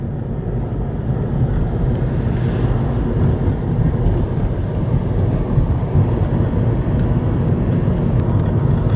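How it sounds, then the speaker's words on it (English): Tourist train on the still-operating tracks along the Northern Central Trail: a continuous heavy low rumble, steady and fairly close for the full nine seconds, with no voices. "Train there."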